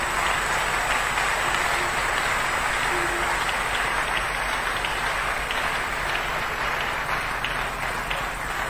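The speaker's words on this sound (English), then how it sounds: "Can we give a clap offering like happy people?" A church congregation claps, a continuous dense patter of many hands that stays steady and fairly loud with no talk over it.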